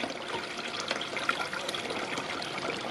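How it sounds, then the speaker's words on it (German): Water from a natural stream course pours into a garden pond, a steady close trickling and splashing with no talk over it. "Der Bachlauf rein in das Wasser."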